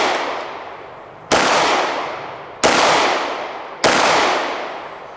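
Four loud, close 9mm shots from a Walther P99 AS pistol at an outdoor range, spaced roughly a second and a quarter apart, each a sharp crack with a long ringing decay that carries into the next.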